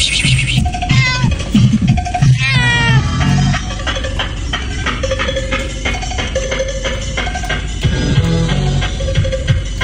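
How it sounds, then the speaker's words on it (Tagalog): A house cat meows loudly and repeatedly, pleading for food, with rising and falling cries at close range and other household sounds mixed in. "Baka yun ang pusa to."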